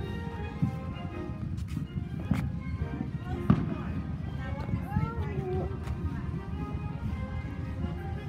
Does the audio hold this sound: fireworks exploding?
yes